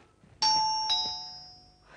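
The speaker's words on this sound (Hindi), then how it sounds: "एक घंटी तो मेरी जान ले लेगी अल्लाह। जब देखो टर्रर टर्रर, जैसे दरवाजा खोलना और बंद करने का ही मेरा काम रह गया है।" A doorbell chimes a clear two-tone ding-dong at close range, the second tone ringing out and slowly fading in an otherwise quiet room.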